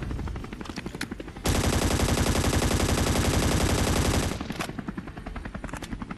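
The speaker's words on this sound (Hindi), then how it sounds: "यहाँ पर फाइनली कुछ ग्रेनेड वगैरह का साउंड आता, मतलब बंदे हैं यहाँ पर" Loud, close automatic gunfire in a shooter video game, a sustained burst of about three seconds between scattered single shots and bangs before and after.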